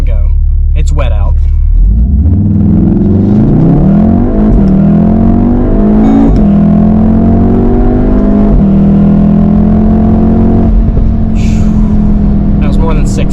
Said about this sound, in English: So I'm just gonna stop it and do a launch here.